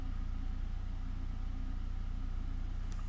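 A 2000 VW Passat B5 facelift sedan with a 1.6 MPI petrol engine idles at a low, steady rumble, quiet and even throughout, with a faint click near the end.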